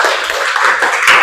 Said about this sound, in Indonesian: Tepuk tangan buat Dharma.